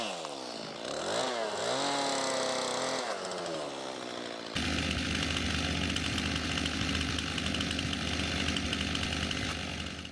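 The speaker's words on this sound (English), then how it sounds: "I'm gonna chainsaw probably just the one cut off of it" A chainsaw revs up and then cuts steadily through a big log raised off the ground during home firewood preparation. The engine drones loud and continuous, close by, with no talking.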